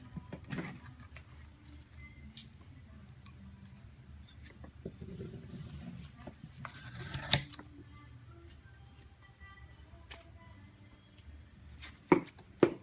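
Leaves cut to an 18-inch mark for a kottot craft project, giving quiet, sparse snipping and chopping clicks with a few sharper cuts near the end over a faint background.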